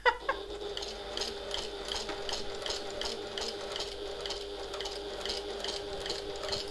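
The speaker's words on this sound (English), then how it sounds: "so I can sew directly on top of them" Domestic sewing machine stitching a classic handbag, running in a steady continuous whir with rapid needle clicks, close and moderately loud throughout, no talking.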